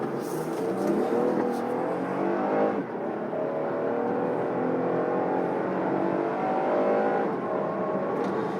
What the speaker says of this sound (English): Very nice gear changes, very throaty V6.